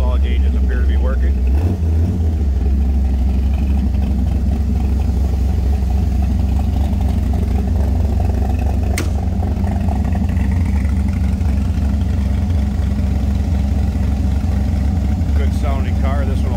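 The engine of a 1937 Ford Cabriolet street rod runs with a deep, bassy rumble, holding a steady, close idle throughout.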